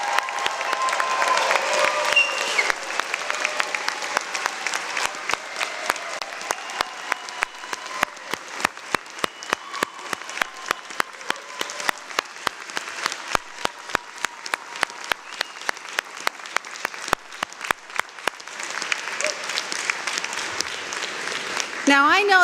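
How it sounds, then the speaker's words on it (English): Sustained applause from a large convocation audience greeting a university's graduating class at a fall ceremony, dense steady clapping throughout with a few louder individual claps standing out near the end. "please join me in applauding the graduating class of the fall of 2021"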